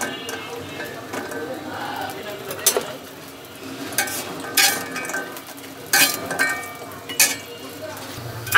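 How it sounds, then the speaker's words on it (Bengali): Lentil bori fry in oil in a kadai, a light sizzle under repeated scraping and clinking of a spatula against the metal pan, with a faint voice in the background. "একটি কড়াইতে আমি পরিমাণ মতো তেল দিয়ে দিচ্ছি। আর এখন বড়িগুলো আমি হালকা বাদামি কালার করে ভেজে"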